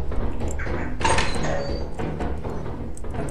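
A door in the co-op horror game Lethal Company swings open and shut with a sharp mechanical clunk near the start and a louder burst around the middle, set against steady background noise.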